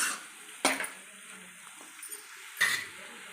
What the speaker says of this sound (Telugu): తిప్పుకున్నాక దీని మీద ఒక ప్లేట్ వేసుకోండి.